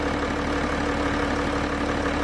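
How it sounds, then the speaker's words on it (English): The engine of a modified BMW 335d E90 diesel with around 100,000 miles runs steadily, turning a new serpentine belt on a new harmonic balancer. Heard up close, it makes an even idling hum with a faint rapid ticking and no talk. "what you see spinning there is a brand new belt, a serpentine belt on a new Harmonic Balancer"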